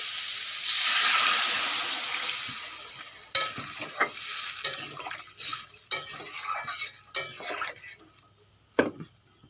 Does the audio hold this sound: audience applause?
no